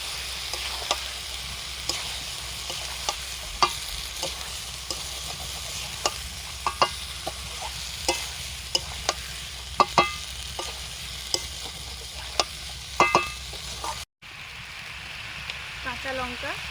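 A spoon scrapes and stirs cauliflower and potato curry with spices and tomato in a pan at a family winter picnic, giving steady close clinks and knocks over a soft continuous sizzle, with a brief break near the end.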